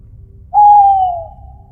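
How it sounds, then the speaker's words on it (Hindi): An owl gives a single drawn-out hoot at night, clear and fairly close, over a faint low rumble. "दूर कहीं से हमें उल्लू के रोने की आवाज सुनाई दी"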